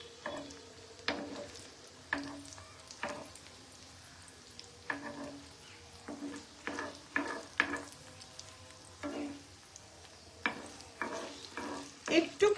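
Paneer kofta balls fry in hot oil in a pan, giving a low steady sizzle broken by repeated stirring and scraping knocks at an irregular rhythm, close and moderately quiet.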